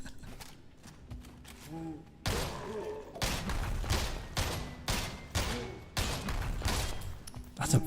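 Several weapons fire in the game SULFUR, with short bursts of gunshots landing in irregular clusters over a quieter stretch of game sound.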